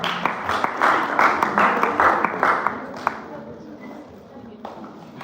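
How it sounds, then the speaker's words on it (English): A room of secondary school students claps for a group at a pathfinder event: dense, close applause for about three seconds, then thinning to scattered claps and fading out. "Please clap for them."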